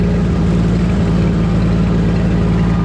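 A two-cylinder Minneapolis-Moline G900 tractor engine idles steadily and loudly up close, a low, even throbbing rumble that holds constant throughout without voices.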